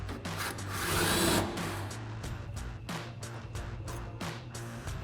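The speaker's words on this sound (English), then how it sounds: "We're gonna grab our impact and 16mm socket and take that out." A cordless impact wrench with a 16mm socket removes an upper sway bar link mount bolt on a 2019-2024 RAM 1500 during a rear lift spring install, giving a steady close buzzing run with several short rattling bursts toward the end.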